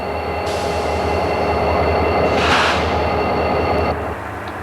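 A CSX freight train rumbles steadily past at close range on the Clinchfield line, with a sustained metallic hum and a brief swell of rushing noise midway.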